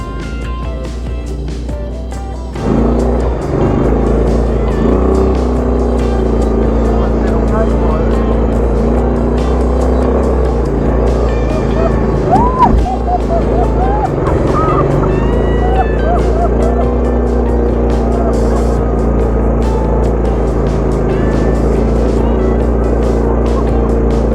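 A quad bike grinds over rough, steep logging trails in Fiji with a loud, steady engine drone, rattles and jolts over the bumps, and a voice talking over the noise.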